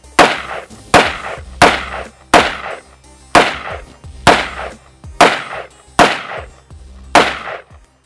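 A 300 Blackout AR pistol fires nine sharp, loud reports at a steady, roughly evenly spaced pace, each crack followed by a short decaying echo, with no talk in between.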